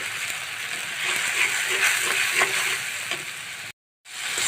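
Spices sauté in a pan for rohu fish curry with bottle gourd, making a steady close sizzle with soft stirring scrapes before a brief drop to silence and a return of frying.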